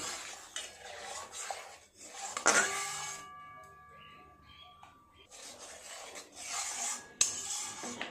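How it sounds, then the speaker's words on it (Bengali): Milk is stirred and scraped in a pan as it reduces for kalakand, bursts of rough utensil rubbing against the metal coming in two stretches with a quieter pause between, close and clear, with some talk alongside. "এইভাবে দুধটাকে নেড়ে নেড়ে জাল করে কমিয়ে নেব"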